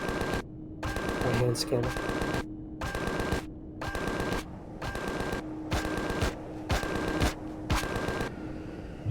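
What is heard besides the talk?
gunfire in the video game Empyrion: Galactic Survival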